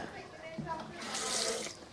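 Water runs from a tap into a pot of black bean and beef stew thickened with flour, a steady close splashing pour that swells toward the end under light kitchen noise.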